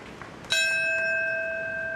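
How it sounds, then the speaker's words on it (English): A single memorial bell at Ground Zero in Lower Manhattan is struck once, a clear bright strike followed by a long, slowly fading ring with sustained tones, heard alone in a quiet setting. "The first bell rang at 8:46."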